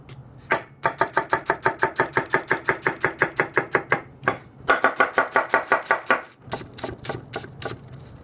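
A Takamura 210 R2 knife chops a potato in a fast, even run of crisp taps on a board. A short pause splits two bursts of about fifteen cuts each, followed by softer, slower strokes, all close with no speech.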